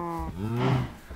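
Cattle mooing in the video game Minecraft, a long harmonic moo followed by a second rising moo, close and clear with no talk over it.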